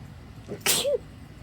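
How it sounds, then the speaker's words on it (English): A single close, sudden sneeze, a short breathy intake followed by a sharp burst and a brief voiced tail. "I had a bit of a sneeze attack there"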